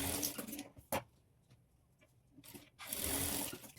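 Sewing machine stitching the shoulder seams of a blouse, its motor running in loud bursts at the start and again near the end, with quieter gaps and a sharp tap between runs.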